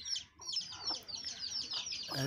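A native deshi hen with three chicks clucks repeatedly in short, quick bursts, fairly close, with faint background noise and no clear speech.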